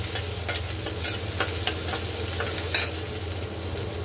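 Onions frying with small fish in a pan, a steady dense sizzle with scraping stir strokes and faint clinks, close and continuous throughout.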